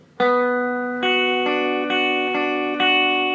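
Single guitar notes are picked slowly one after another, about two per second, each ringing into the next in a steady arpeggio with light effects; a fingerpicked pattern.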